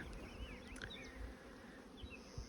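Honey bees in a bee yard among bulk bee splits, a soft, steady buzzing swarm with individual bees whining past up close, quiet overall and with no voices.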